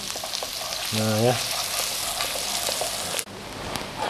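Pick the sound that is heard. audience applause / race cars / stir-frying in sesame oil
stir-frying in sesame oil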